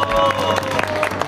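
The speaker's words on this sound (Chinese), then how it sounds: "鼓掌！" A brief burst of applause and cheering at a small celebration for a classmate admitted to the China Fire and Rescue Academy, dense, close clapping over a steady musical hum.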